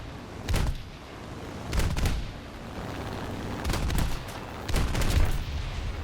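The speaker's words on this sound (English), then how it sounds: "I zoom in on the Yak 4 to see if I can land a couple of cannon rounds on him." Four short bursts of rapid cannon fire from a Yak-9T fighter plane, spaced a second or so apart, over a steady engine drone in a video game.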